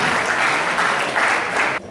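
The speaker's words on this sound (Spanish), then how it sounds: "fuertes aplausos para nuestro ponente Alan Castro Riveros" Loud, enthusiastic clapping from a crowd welcoming a speaker fills the room, then cuts off abruptly near the end.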